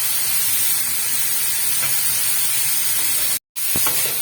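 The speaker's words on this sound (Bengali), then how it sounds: "পেঁয়াজটা আমার ভাজা ভাজা হয়ে গেছে।" Onions frying in a pan for chicken biryani give a steady, broad sizzling hiss that holds at an even level, briefly interrupted by a short gap near the end, with no talking.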